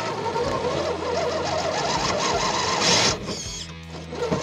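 A Traxxas TRX-4 Bronco RC crawler's electric motor whirs steadily as it climbs, a close buzzing drone that cuts off abruptly near the end.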